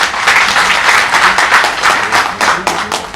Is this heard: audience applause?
yes